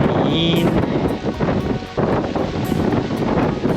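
Steady outdoor wind buffets a microphone at Wat Thong Hai Hin, a Buddhist temple, giving continuous loud rumbling roar throughout with brief gusting fluctuations and no clear speech.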